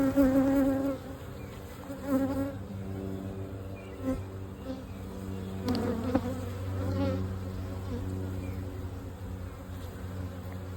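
A dense, steady hum of many honeybees buzzing close by in an open hive during inspection, a low droning swarm that continues throughout with small swells in loudness.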